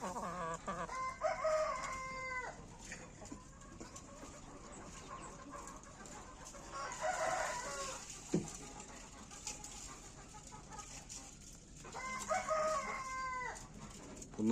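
A rooster crows three times at intervals, loud and close, with hens clucking softly in between; an ash-colored breeding rooster kept with the hens.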